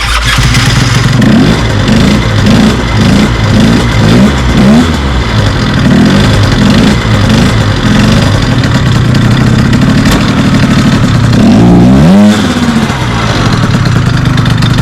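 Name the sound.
engine started and running with CVT cover off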